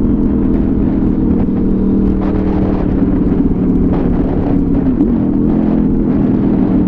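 A motorcycle rolls up to a gas station with a steady engine drone and heavy wind rumble at the rider's microphone, continuous and close with slight swells in throttle.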